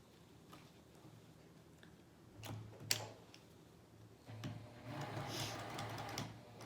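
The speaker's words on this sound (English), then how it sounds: "I'm going to sew across my elastic this way" A sewing machine back-stitches across elastic, with quiet intermittent ticking stitches, a couple of sharp clicks, then a slightly louder steady run of stitching toward the end.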